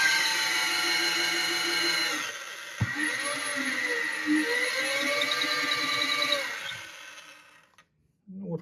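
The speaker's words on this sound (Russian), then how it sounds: "Я могу и обычным сейчас сверлом его пройти." An ordinary drill bit bores into brick with a loud, steady whine carrying strong tonal harmonics for about six seconds, shifting pitch under pressure midway, then winding down and stopping.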